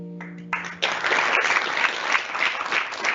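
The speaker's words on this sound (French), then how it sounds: "vous pouvez bien sûr applaudir l'initiative de Benoît" Audience applause at an awards ceremony starts abruptly after a brief tonal sound and carries on as dense, loud, sustained clapping with no speech over it.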